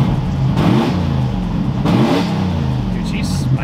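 A 1986 Ford F250 truck engine revs up twice in quick surges, each rising then falling back to a rumbling idle, loud and close, with a voice briefly heard near the end.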